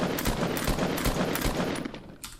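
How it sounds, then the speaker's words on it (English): Gunfire in the video game Fortnite hammers a metal build in a loud, rapid burst of close shots that thins out near the end. "He's trying to shoot down a metal tower right now."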